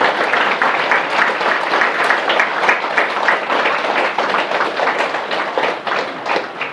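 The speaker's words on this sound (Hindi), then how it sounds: "चलो 2 हाथ से ताली बजेगी" An audience at a diet camp in Aurangabad claps with both hands in a dense, sustained round of applause, loud and steady from start to finish.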